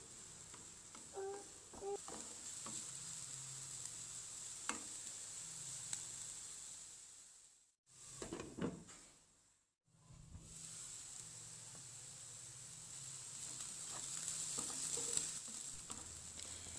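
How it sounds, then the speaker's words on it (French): Finely chopped onion and green pepper fry quietly in a pan, a faint steady sizzle with scattered stirring clicks, briefly cut out twice before resuming. "je vais faire venir un oignon coupé finement avec un poivron vert dans une poêle quelques minutes"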